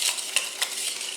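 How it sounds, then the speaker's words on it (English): A whisk scrapes briskly around a bowl of lemon juice glaze in short, soft, rhythmic strokes, close and fairly quiet with no talking. "Give that a nice whisk."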